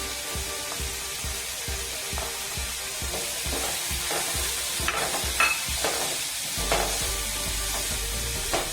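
Onions with turmeric, chili powder and salt sauté in a pan, a steady low sizzle and frying hiss with occasional stirring scrapes, close and fairly quiet.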